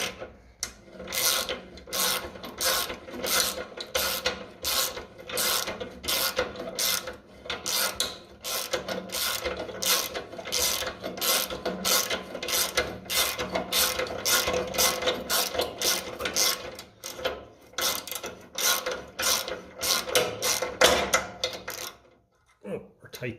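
A hand ratchet clicks in rapid, repeated bursts while tightening a part on a 1957 Ferguson FE35 TVO tractor near the key switch and solenoid, loud and close, running for about twenty seconds before stopping.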